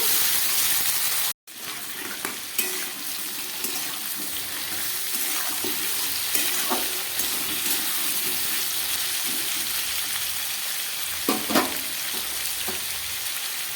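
Mixed vegetables fry in a pan with a steady, loud sizzle and hiss, broken by a few clinks and scraping stirs, with no talking.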